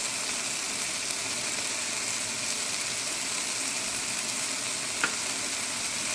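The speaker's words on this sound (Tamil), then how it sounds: "நல்லா வதங்கட்டும்." Mushroom masala with cumin powder, Kashmiri chili powder and garam masala sautés in a pan, giving off a steady, dense, close sizzle that holds evenly throughout.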